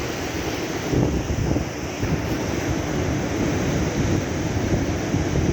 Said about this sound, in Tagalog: Maririnig nyo yung sound ng ano, ng alon